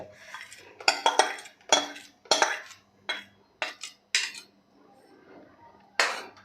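Tamarind mixture is poured into a steel cooking pot with a spoon, producing a series of sharp metallic clinks and scrapes in irregular bursts, close and clear.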